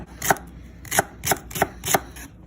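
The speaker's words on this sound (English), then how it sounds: "You gotta cut the vegetables up." Knife chopping vegetables on a board for chicken dumpling soup, five crisp evenly spaced chops, close and clear.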